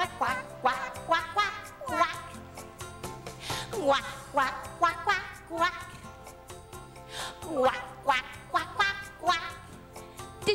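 A voice imitates a duck, singing repeated quacking syllables in a bouncy rhythm over light music, with many quacks in quick succession.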